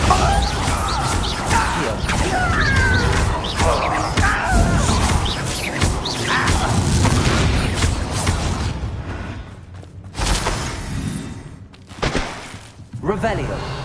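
A Bombarda blasting spell in Hogwarts Legacy sets off a loud, dense explosive crash that rumbles on for several seconds, then trails into scattered thuds and smaller bangs.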